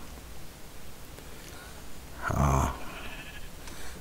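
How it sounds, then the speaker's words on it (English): A sheep in a medieval, dragon-infested survival video game gives a single short bleat midway through, standing out clearly over a quiet, hissy background. "Alright, okay, there's some sheep."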